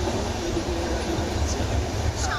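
A steady, rumbling ride on the Ispat Express train from Howrah toward Jhargram, with continuous low rolling noise and a faint rattle, heard from inside a carriage, no clear voices.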